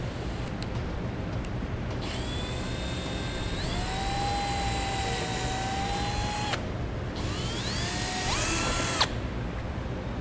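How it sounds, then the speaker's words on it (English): A power drill with a small bit whines at high pitch in two long runs, drilling bolt holes on a 2017 Chevrolet, the motor pitch rising and shifting as the bit bites, with a brief pause between. "I'm going to use a little drill bit and drill out my holes here"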